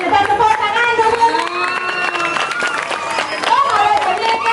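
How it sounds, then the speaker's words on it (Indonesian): Crowd at a Balinese comedy performance at a temple clapping together, steady applause mixed with lively cheering and scattered voices, fairly loud and close throughout. "Kita tepuk tangan dulu."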